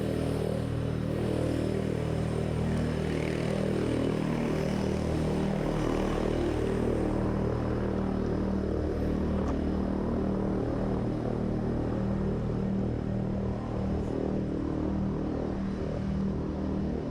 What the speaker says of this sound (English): there's a whole load of army helicopters making quite a lot of noise